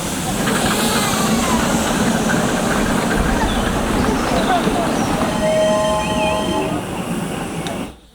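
A miniature steam train rumbles and hisses while building up steam, a steady loud mechanical roar with brief whistle-like tones before it cuts off abruptly near the end.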